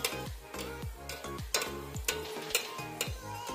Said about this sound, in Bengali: এভাবে করে তেলটা ছড়িয়ে দিব, লাহে লাহে ভাজা হবো, লাহে লাহে ভেজে নিব।